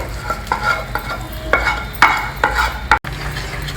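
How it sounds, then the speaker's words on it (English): A spoon stirs hot caramel into South Indian kheer (payasam) in a pot, making close, rhythmic scraping strokes about every half second with a faint sizzle beneath, then stopping briefly. "carefully mix in this caramel into your payasam and stir it also"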